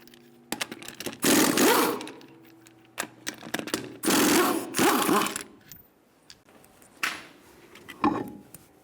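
Lug nuts on a 1998-2011 Ford Ranger rear wheel being loosened with a 19mm socket, heard as loud whirring bursts of a rattling power tool with clicks and knocks between them, close by.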